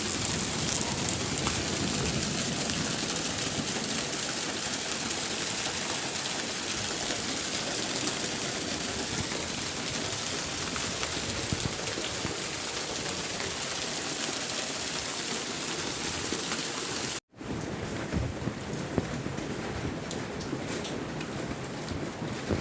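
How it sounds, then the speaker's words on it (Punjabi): Heavy monsoon rain pours steadily outside a home with flooded lanes, a dense unbroken hiss close by that holds loud for the whole stretch with one brief dropout near the end and no voices. "ਬਾਰਿਸ਼ ਕਿੰਨੀ ਜ਼ਿਆਦਾ ਹੋ ਰਹੀ ਹੈ"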